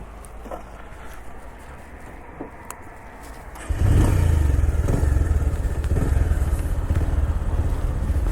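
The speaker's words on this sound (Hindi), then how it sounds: "सैवी भाई अपना रेडी हो चुका है और करते हैं बाइक स्टार्ट" A motorbike starting up outdoors on a sunny mountain road in Uttarakhand: a few seconds of quiet rustling and small knocks, then the engine catches abruptly and settles into a loud, steady, close idle that runs to the end.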